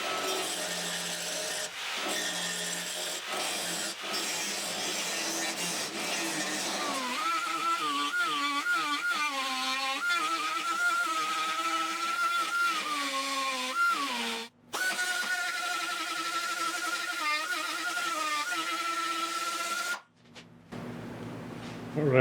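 An angle grinder works a weld on the driver door of a 1972 Triumph GT6, a loud continuous abrasive whine whose pitch rises and wavers, broken by brief pauses, and then it stops near the end.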